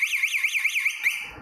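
A car GPS tracker's alarm sounds after an illegal door opening: a loud warbling siren that rises and falls about five times in steady rhythm, then cuts off into faint background noise.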